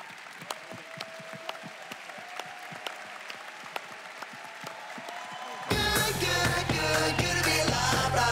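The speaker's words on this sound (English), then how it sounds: "give a huge, loud cheer for this incredible panel" A conference audience applauds and cheers for a business panel, a burst of loud, dense clapping that starts suddenly partway through and carries on to the end after a stretch of scattered, fainter sounds.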